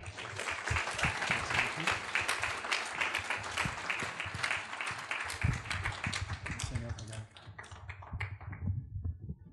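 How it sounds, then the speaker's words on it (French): A church congregation claps together through a Sunday-morning service, a dense, steady patter of many hands that thins out near the end, with a low hum underneath. "On l'applaudit, mes frères?"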